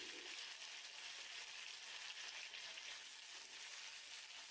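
Sliced potatoes fry in a pan with curry leaves, giving a steady, dense sizzle that stays even and close throughout, with no speech.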